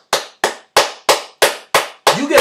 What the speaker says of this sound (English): You get a clap from me.